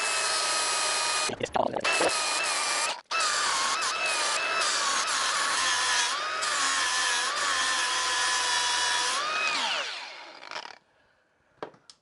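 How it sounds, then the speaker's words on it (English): A flap disc on an angle grinder grinds away a sharp metal corner on a car's wheel and brake fitting, a loud sustained high whine with brief pauses, then spinning down. "we're just gonna take the flappy disc and grind it away"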